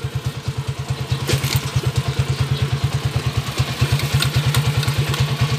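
A motorcycle engine in Bayambang, Pangasinan, runs alone and up close with a loud, steady, rapid thumping idle rhythm that holds throughout.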